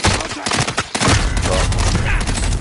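Heavy bursts of rapid gunfire fill a Warzone Resurgence match, loud and continuous with overlapping shots and a short break partway through.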